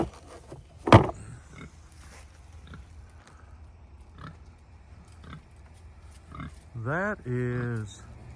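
Farm pigs snuffle and grunt close by, a sharp loud snort near the start, soft chewing sounds after, and a run of rhythmic grunts toward the end.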